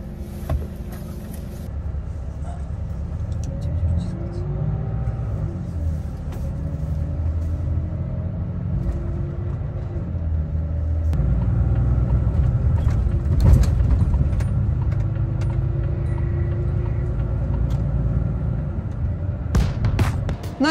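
A truck carrying dangerous cargo drives along a road toward England, its steady low engine rumble and road noise continuous and close, swelling slightly louder partway through, with no talk.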